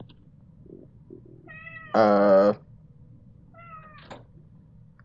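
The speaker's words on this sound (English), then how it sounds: "I was gonna say I can hear your cat." A cat at a door gives a few faint taps, then one loud, close meow and a softer meow a moment later, over quiet room noise. Someone briefly murmurs.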